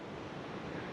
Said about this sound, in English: Been quite windy all night